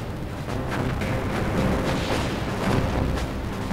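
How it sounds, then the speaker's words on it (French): Battleship North Carolina and escorting destroyers firing anti-aircraft guns, a dense continuous barrage of overlapping booms and bursts at steady loudness with no gaps, no talk. "Le cuirassé North Carolina et les destroyers ouvrent le feu."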